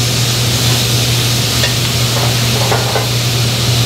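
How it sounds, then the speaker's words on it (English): Steak tips sear on a grill with a loud, steady, hissing sizzle that stays even throughout, close up, with a low hum underneath and no talking. "place the steak tips flat on the grill and leave them there for about 5 or 6 minutes so they get a nice sear on the meat"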